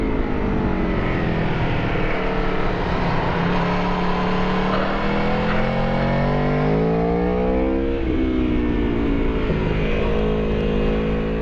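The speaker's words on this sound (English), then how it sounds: "You just roll the throttle, the spring inside this electronic throttle, it's very easy to maneuver, and you will get a lot of feel from this acceleration." An Aprilia Tuono V4 1100 Factory motorcycle accelerating, its engine note climbing steadily in pitch, easing briefly around the eight-second mark and then rising again, loud and continuous throughout with no talk.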